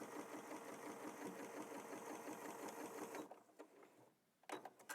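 A Janome Memory Craft 6700P sewing machine stitches a quarter-inch seam in a fast, steady mechanical whir for about three seconds, then stops, leaving faint handling noise and quiet clicks.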